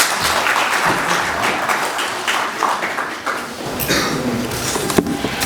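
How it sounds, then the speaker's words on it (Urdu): Audience applause at an Urdu humour-poetry gathering, sustained clapping from a crowd that fills the whole stretch at steady loudness, with a few sharper claps standing out near the end. "آپ کی تالیوں میں اسٹیج پہ آنے کی دعوت دوں گی ڈاکٹر محمد کلیم صاحب کو"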